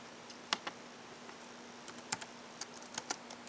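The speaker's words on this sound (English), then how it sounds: "Typing somebody on Skype." Typing on a computer keyboard during a Skype chat: irregular bursts of sharp, close key clicks with short pauses between them, alone in a quiet room.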